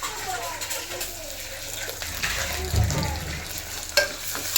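Tomatoes and onions sauté in a pan for a chicken gravy, a low hissing sizzle with occasional stirring knocks and a hum underneath, close and moderately loud.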